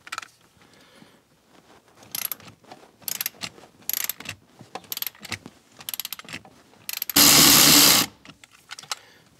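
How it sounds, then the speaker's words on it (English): A small electric ratchet buzzes in short repeated bursts while removing a T50 bolt from a Land Rover LR3 seat, with one longer loud run near the end and quiet clicks between. "So I'm gonna get in here with my little electric ratchet."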